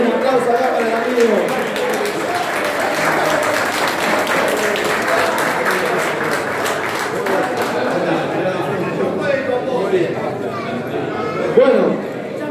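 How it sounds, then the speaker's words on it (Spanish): An audience at a kayak clinic held at a fishing club claps in a loose, continuous patter, mixed with crowd chatter and occasional voices rising over the clapping. "un aplauso acá para el amigo"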